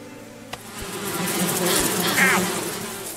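Bees buzzing around hives in the survival game Above Snakes, a rising and falling insect drone that swells through the middle, with a brief click near the start and faint background tones.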